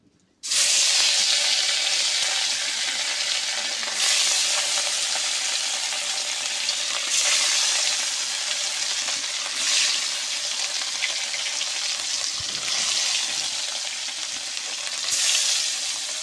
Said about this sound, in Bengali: কড়াইয়ের তেল গরম হয়ে গেছে, এবার একে একে আমি মাছগুলো দিয়ে দেব।